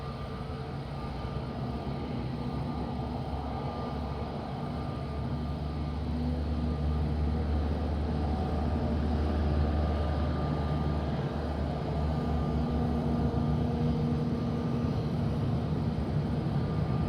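Aircraft at Madeira Island Airport in strong wind: a steady, droning engine rumble with wind roar that swells slightly midway and holds for the whole stretch, with no talk.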